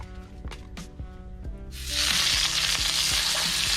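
Loud, steady sizzling of salmon skin crisping in hot oil bursts in partway through, after a few soft clinks and taps, then continues as a dense crackling hiss.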